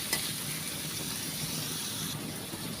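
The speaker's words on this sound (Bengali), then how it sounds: "এখন পেঁয়াজটা ভালো করে আমি ভেজে নিব।" Chopped onion with small pieces of bay leaf sizzles and crackles steadily in hot oil in a pan, a close, dense frying hiss with light stirring scrapes.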